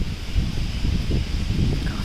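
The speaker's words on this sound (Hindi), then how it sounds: "काफ़ी तेज़ हवा है" Strong wind from Super Cyclone Amphan gusts through leaves, a continuous rustling roar with low buffeting against the microphone, no voices.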